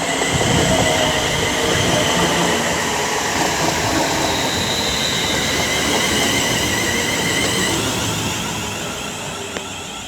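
A Class 350 electric multiple unit passes along the West Coast Main Line at Marston Green, a loud continuous rumble with wheel noise and faint squeal that gradually eases toward the end.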